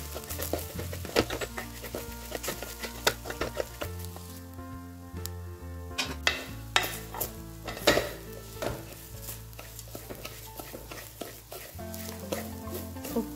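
Broken wheat is dry-roasted in a pan, with a soft, crackling hiss and repeated clinks and scrapes of a spoon stirring the grains. A faint tonal background hum sits underneath.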